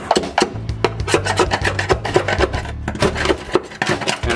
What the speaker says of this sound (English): sometimes if you're lucky, you can just kind of pick at it with a screwdriver like this